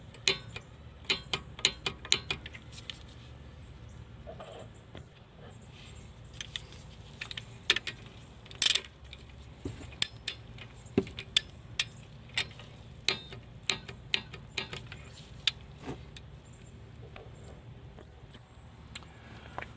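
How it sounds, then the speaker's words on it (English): A torque wrench tightens the brake caliper slide bolts on a 2015 Kia Soul to 20 foot-pounds, producing a quiet run of sharp, irregular ratcheting clicks over low background noise. "we're going to go ahead and torque these slide bolts to 20 foot-pounds"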